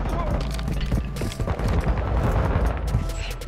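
Rapid gunfire from the Tempus Razorback in the video game MW2 rattles continuously through a dense, loud mix of game sound, with a voice talking faintly underneath.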